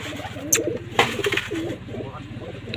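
Pigeons coo close by in low, throaty, rolling calls that repeat without pause, with a couple of sharp clatters near the start.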